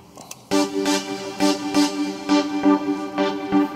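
A bright synth lead preset called Follow plays a rhythmic pattern of sustained, harmonically rich notes with regular pulsing accents, entering abruptly after a short quiet lead-in.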